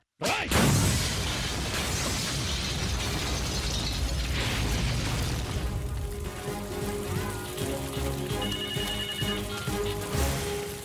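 A car bomb goes off in a film scene: a sudden loud blast opens, then a long rumbling wash of debris and crackling follows, fading slowly into scattered mechanical rattles and a faint high tone.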